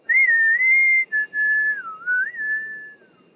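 A person whistles a short, clear, wavering melody of a few sustained and sliding notes, close and alone, at a cultural experience in North East India.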